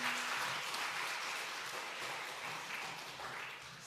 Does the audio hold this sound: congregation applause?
yes